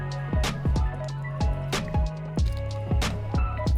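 Someone takes a water break, gulping in a steady rhythm of about eight close, wet swallows with short gaps between them.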